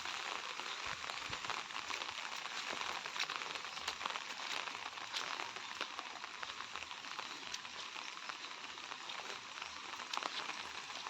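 Steady, dense hiss of heavy rain falling without a break, a continuous wash of patter from start to finish with no voices.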